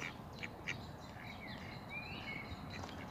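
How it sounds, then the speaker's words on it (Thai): Mallard ducks on open water give a few short, fairly faint quacks, with soft bird calls over steady outdoor background noise. "กินเป็ดหัวเขียว สองตัวอยู่ในน้ำ"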